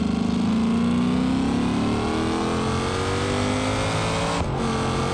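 A car engine in BeamNG.drive revs loudly and steadily, its pitch climbing smoothly for about four seconds, then dipping briefly as it shifts before rising again.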